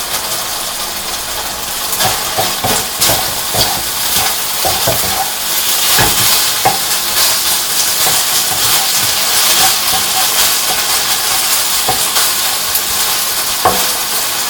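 Thin strips of sirloin beef sizzle steadily in a hot pan, a dense bright hiss with occasional stirring clicks and scrapes throughout.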